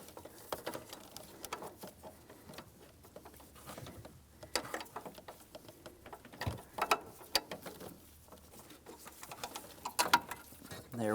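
Metal wrench clicks and scrapes while loosening a 16mm power steering pressure line fitting on a GMC Sierra 2500 hydroboost system, a series of close, sparse mechanical taps and ratcheting sounds with no talking.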